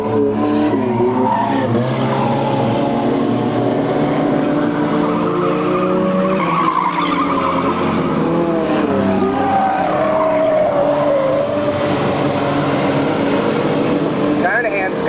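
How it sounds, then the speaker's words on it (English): Race cars roar around a racetrack, engines droning loud and continuous with shifting pitch as cars pass, tires scrubbing, while an announcer calls the race over the top throughout. "Here comes your first place car."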